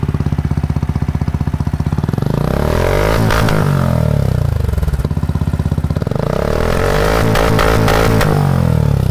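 A Benelli Imperiale 400 motorcycle idles with a steady thumping exhaust, then two throttle blips rise sharply and fall back, loud and close with no talking.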